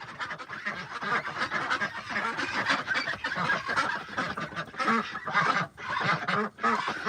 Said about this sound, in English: Ducks, ducks, ducks, ducks,